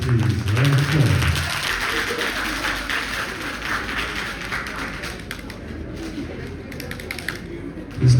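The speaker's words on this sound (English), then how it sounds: "Round of applause." Audience applause for a team called on stage at an awards ceremony, a scattered, moderately loud clapping that thins out over several seconds, with a voice speaking briefly near the start.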